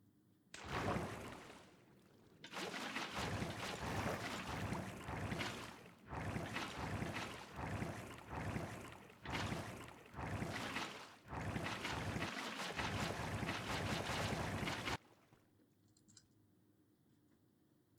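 Water being placed block by block in the video game Minecraft, a run of loud rushing, splashing bursts separated by short gaps, then a sudden drop to near silence.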